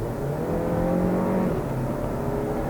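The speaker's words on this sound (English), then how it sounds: "as you can hear, the little engine roars away and does its thing nicely" Volkswagen Golf 7 small engine revving while driving on a winding road, a steady mid-pitched drone with rising and falling tones as revs shift, heard from inside the car with no talking.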